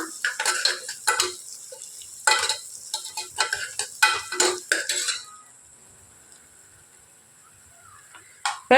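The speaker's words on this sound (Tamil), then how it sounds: "அதனால் ஒரு பொன்னிறமாக வர அளவுக்கு வதக்கிக்கலாம்" Vegetables sautéing in a pan with a bright sizzle, stirred in a run of clattering, scraping strokes before settling into a quiet simmer, with one more scrape near the end.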